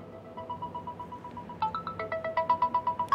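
A phone ringtone chimes at a French-speaking research-methods training session at UCAD, a repeating electronic melody that starts softly and grows louder and more insistent over a few seconds, with no talking.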